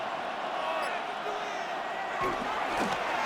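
A stadium crowd in the Madden 26 football video game rumbles as a low, constant roar under a commentator's voice, with a few brief thumps near the end.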